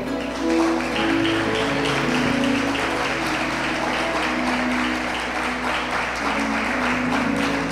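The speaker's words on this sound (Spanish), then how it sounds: "Dale un fuerte aplauso al Señor" Church congregation applauding during a worship service, a dense sustained wash of clapping that runs steadily throughout with music playing underneath.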